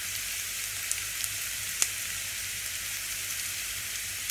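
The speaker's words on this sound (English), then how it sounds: "our garlic is starting to fry in the olive oil" Garlic and chili flakes sizzle in olive oil with a steady, close frying hiss broken by a few sharp pops.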